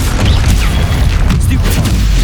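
Spell blasts and magical impacts in Hogwarts Legacy combat, a dense run of loud booming bursts and crashes layered over a continuous low rumble with no pause.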